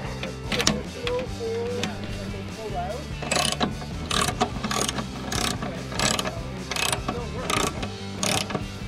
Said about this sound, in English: All right, so the handy dandy ratchet holder. And this we put on here.